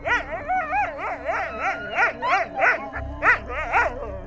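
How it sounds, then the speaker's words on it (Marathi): A dog makes strange, strained noises at night: rising and falling howls and whimpering yips mixed with short barks. The calls come in a steady run of warbling cries, fairly close and loud, with no talking. "त्यांचा कुत्रा तो अचानक विचित्र आवाज काढू लागला"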